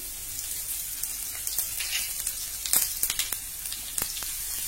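Onion and green chili fry in a wide, heavy pan with mustard seeds, giving a steady close sizzle dotted with sharp crackles and pops.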